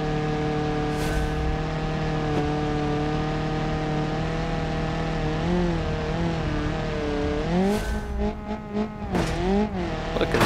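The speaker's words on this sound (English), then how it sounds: "This is basically a derby rally car." Derby rally car in BeamNG driving with a continuous engine drone whose pitch rises and dips, tires squealing and skidding in bursts near the end.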